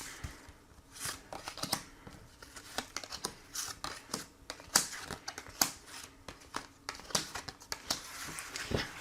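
Tarot cards are shuffled and drawn close up, a long series of quick, crisp riffles, flicks and papery slaps in an irregular rhythm with brief pauses between them, and no voices.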